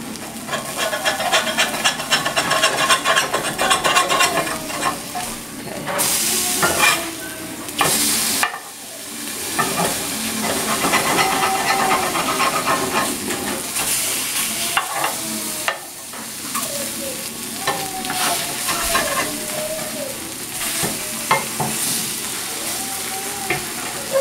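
Salmon fillets sizzle in a frying pan as they are flipped and cooked for tacos. A loud, continuous close-up frying hiss runs throughout, with scraping and clattering from the turner and occasional brief quiet gaps.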